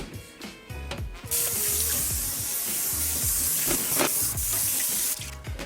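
Water runs steadily from a kitchen faucet over dishes and pans in a sink, a loud continuous hiss after a few clinks of handling, then a brief break and more clatter at the end.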